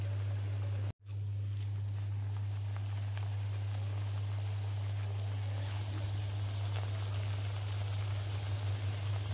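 Alu vadi, colocasia leaf rolls coated in a spread batter, fry in hot oil with a steady, dense hiss and sputter alongside a constant low electrical hum. The sound cuts out briefly near the start.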